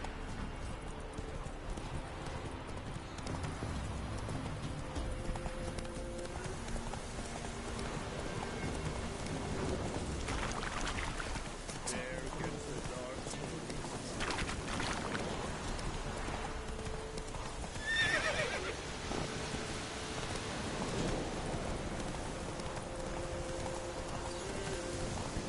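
Roach, a horse in The Witcher 3, clip-clops steadily through falling rain, the hoof beats close and even over a soft patter of raindrops.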